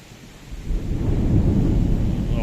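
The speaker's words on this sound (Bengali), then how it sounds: "আকাশে বজ্রপাত হচ্ছে এবং বৃষ্টি পড়তেছে।" Thunder swells into a deep, loud rumble that rolls on through a steady rainstorm on a rainy day, with the low roar rising after a quieter start and holding to the end.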